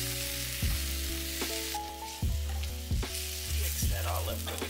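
A seasoned tofu scramble with vegetable broth is stirred in a hot pan: four or five rhythmic spatula sweeps stand out over a steady sizzle and an underlying hum.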